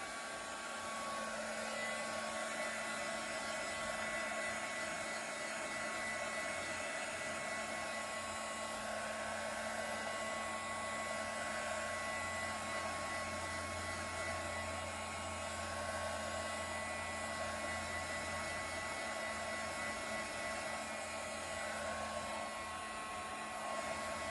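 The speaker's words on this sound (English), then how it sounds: "I'm going to hit this with the dryer to get it going." A hair dryer blowing on drying glue on a craft snowman, a steady loud whooshing roar with a constant motor whine that runs unbroken throughout, close to the listener and without talk.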